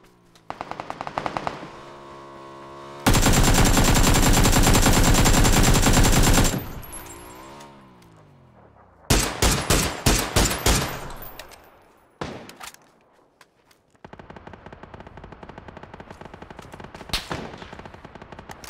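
Machine gun fire in the video game PUBG rattles loudly in repeated bursts, including one long sustained stream, with short pauses between volleys.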